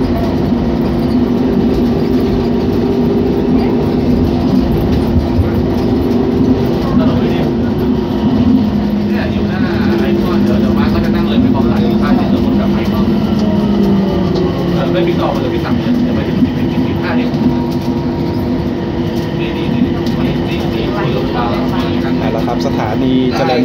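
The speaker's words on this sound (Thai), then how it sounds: "ขบวนรถก็เร่งความเร็วนะครับ" BTS Gold Line driverless rubber-tyred train accelerating on an elevated line in Thonburi, a steady loud motor and rolling drone with rising whine tones inside the carriage, someone talking throughout.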